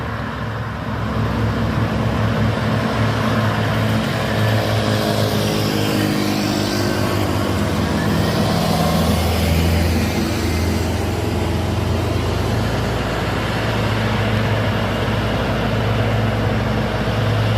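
An orange Fuso truck's engine labors loudly and continuously as it climbs a steep hill, a deep, heavy drone that holds steady throughout.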